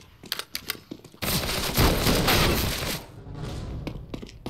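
Counter-Strike: Global Offensive gunfire: a few sharp separate shots, then a sustained loud burst of rapid fire lasting about two seconds, followed by quieter trailing shots.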